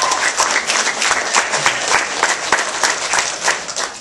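An audience applauds a debater, the 2009 Glenbrooks champion, at a Lincoln Douglas debate workshop: steady, dense clapping from a full room that holds at an even level for the whole stretch, with no voices over it.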